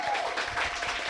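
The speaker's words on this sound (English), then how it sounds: "let's give one big round of applause to Chico" Audience applause for Chico at a slide show event: steady, dense clapping from a crowd, fairly loud and continuous throughout, with no voices rising above it.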